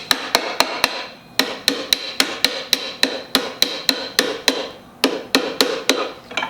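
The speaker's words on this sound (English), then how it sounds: "So just hammer it through" A hammer drives a pedal pin into a King Song electric unicycle while extra large pedals are fitted, striking about twenty sharp metallic blows in a quick, steady rhythm with a few short pauses, loud and close.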